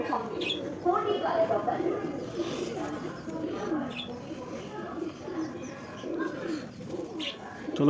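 Giribaz pigeons coo softly in a loft, with low murmuring calls and some faint chirps, while someone talks over them for much of the time.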